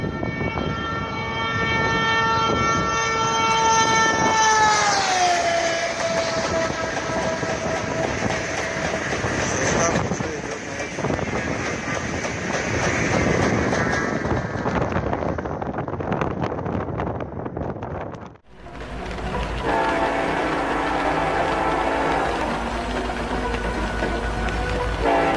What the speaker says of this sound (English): shows footage of train brake tests after the uncoupling